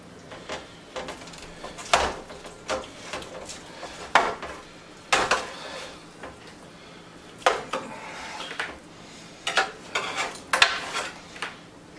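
A knife slices into a partly done smoked pork roast from a Pit Boss Memphis Ultimate 4 in 1 smoker grill, giving close, irregular scrapes and clatters on the board and dish, some sharp, some soft.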